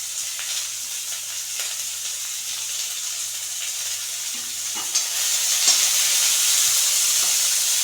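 Onions, green chilli, curry leaves and ginger sizzle and fry steadily in a pan for a lunch dish. The sound is close and continuous, with light stirring clinks, and gets a little louder near the end.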